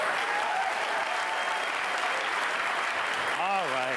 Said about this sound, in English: would you mind clapping a little louder?